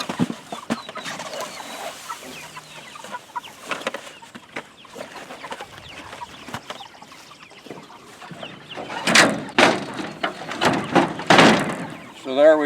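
Farm chickens in a pen, roughly 95 birds, give scattered clucks and squawks that grow busier and louder toward the end, with someone talking over them and occasional knocks.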